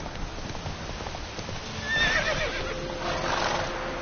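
In The Witcher 3, a horse gallops with rapid clip-clop hoofbeats and lets out a clear whinny midway, while the hooves keep pounding close and loud.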